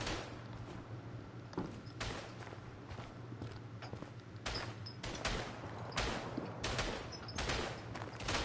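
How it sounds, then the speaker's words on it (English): Machine pistol gunfire in a World War I Western Front video game comes as rapid bursts of shots spread through the stretch, each burst a sharp crackle over steady background noise and movement sounds. "I love the machine pistol."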